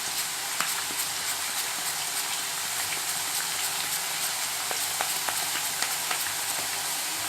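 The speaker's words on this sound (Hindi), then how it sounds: "हमने जो केले अच्छे से छील रखे हैं उसे ऐसे डालते जाएंगे" Banana slices fry in hot oil over a medium flame for crispy chips, giving a steady, dense sizzle with scattered pops and crackles throughout, close and continuous with no voices.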